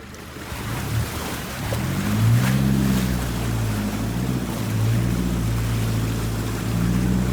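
A four-wheel drive ploughs through a big, deep creek, its engine droning steadily while water surges and splashes around it, loud and continuous throughout.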